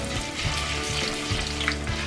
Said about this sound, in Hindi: कढ़ाई में मैंने 2 चम्मच तेल गरम कर लिया है। इसमें मैं डालूंगी 1 चम्मच जीरा।